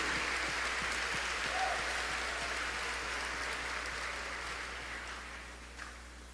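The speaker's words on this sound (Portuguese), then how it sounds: "Vamos aplaudir o Espírito Santo." A church congregation applauds in a steady wash of clapping that holds evenly and slowly thins out over a few seconds, with a low hum underneath.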